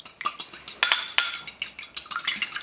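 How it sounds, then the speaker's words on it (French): Egg whites being beaten with a fork in a bowl: rapid rhythmic metallic clinks and taps against the bowl in quick irregular strokes, close and crisp, with no talking. "on va battre maintenant nos blancs en neige"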